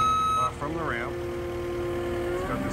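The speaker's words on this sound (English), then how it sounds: "they had, luckily, a forklift with the tracks on them, you know, more like a tank" A tracked forklift loads a machine into a trailer while a reversing alarm sounds a few beeps over a steady engine drone, with a voice talking across the clip.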